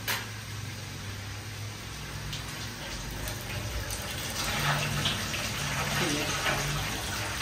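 Water pours and gushes out of a washed bottle gourd, a steady splashing and trickling stream that grows slightly louder toward the end, heard close up without talk.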